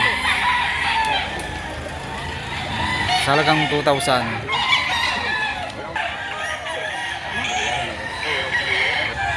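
Roosters crow loudly and repeatedly at a Saturday chicken market in Lipa, Batangas, with clucking fowl around and people talking over the birds throughout.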